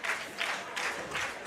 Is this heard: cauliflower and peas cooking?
no